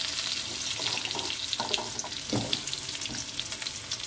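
Mixed vegetables with ginger frying in a pan, a soft continuous sizzle with faint scraping and stirring clatter, close but quiet.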